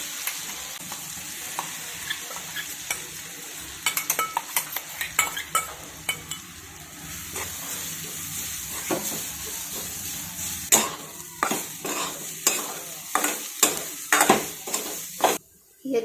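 A ground spice paste goes into hot oil with mustard seeds and cumin, frying in a steady sizzle while a metal spoon scrapes and clinks against the pan in irregular bursts.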